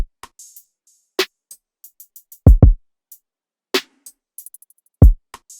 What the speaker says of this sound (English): Then I added all this hi-hat and percussion that sounds like this.